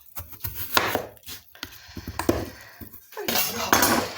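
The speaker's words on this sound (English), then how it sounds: "potato, I usually cut them in quarters" A knife chops potatoes into quarters on a board, a series of close, sharp irregular cuts with short pauses between them.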